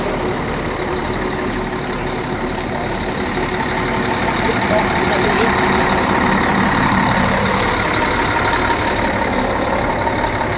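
A pilgrim bus at Arafah during the Hajj runs with a loud, steady engine rumble close by, with surrounding crowd noise and possible faint beeps.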